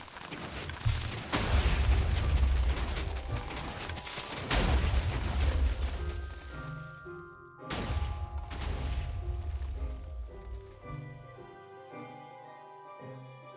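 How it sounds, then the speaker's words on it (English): A semi-automatic cannon fires in a building game, a dense roar of rapid booming blasts for several seconds, a short break, then more firing that fades into ringing tones and quiet. "You just look down here and hold right click, and the cannon does all the rest."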